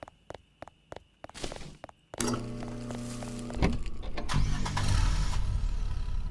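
In the horror game Cleaning Redville, a car gives several sharp mechanical clicks before its engine catches and settles into a steady hum that grows into a louder, rougher running drone, with no voices.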